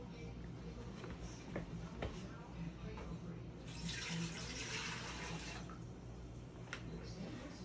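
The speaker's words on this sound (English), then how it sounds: "We are putting a whole pot of water in" Tap water pours steadily into a pot, a continuous hiss that swells louder midway as the stream strengthens, heard close up with people talking faintly in the background.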